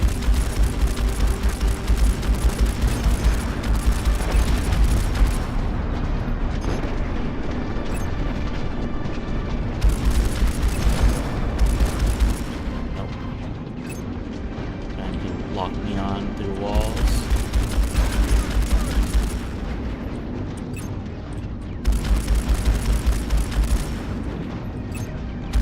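Missiles firing and blasting apart targets during a space battle with a transforming mech fighter, rapid launches and booming explosions in loud repeated waves over a dense roar, with a voice talking now and then.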